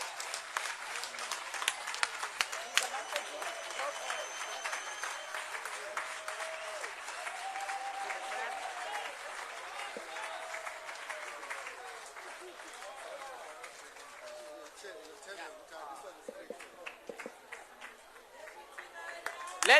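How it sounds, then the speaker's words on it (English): Audience applause fills a political assembly hall, steady and dense for most of the stretch before thinning and turning more scattered toward the end. "Let's give her another round of applause."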